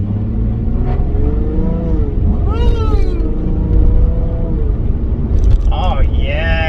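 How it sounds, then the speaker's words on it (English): A Nissan 350Z with a replacement exhaust revs up, a loud close rumble that swells into rising pitch sweeps, while someone talks excitedly over it. "And we're gonna hit the gas pedal right now."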